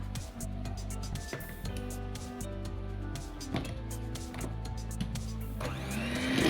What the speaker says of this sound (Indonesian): Setelah semua tepungnya masuk, kita mixer kembali dengan kecepatan rendah asal rata aja